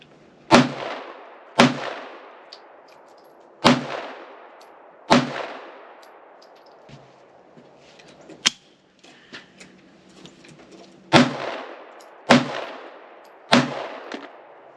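Sharp single shots from a Shadow Systems MR920 Elite pistol on a Glock OEM 15-round magazine with IMI 115-grain hollow points ring out loud and close, irregularly spaced with long ringing decays and quiet handling noises during a pause in the firing.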